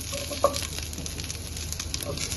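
Vegetables, including pumpkin and ridge gourd, stir-fried in a pan for a traditional Rishi Panchami bhaji, giving a steady close sizzle with a single sharp scrape of the spatula near the start.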